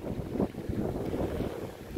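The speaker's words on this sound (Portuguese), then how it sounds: "Agora veio um vento, ó." Steady wind buffeting a microphone outdoors in Guajará-Mirim, Rondônia, Brazil, after a passing rain, a continuous low rumble with gusty swells near water, no voices.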